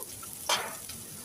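Chopped onion hits hot oil in a pan where okra was just fried, giving a brief sharp sizzle burst and a short stir, then a soft steady frying hiss.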